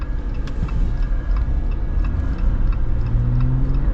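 An AEV Wrangler Classic accelerates with a steady, loud engine drone and road rumble heard from inside the cabin, the engine note rising slightly near the end, with no speech.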